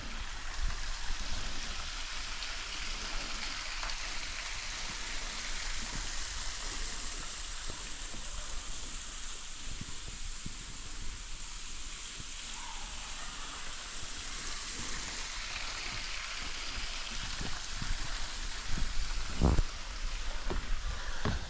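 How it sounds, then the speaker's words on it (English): Bridesmaids Falls at Bushkill Falls, running low during a drought, gives a steady, soft rush of falling water that hisses evenly throughout, with a few small splashes and knocks close by. "So this one is actually called Bridesmaids Falls. So here it is."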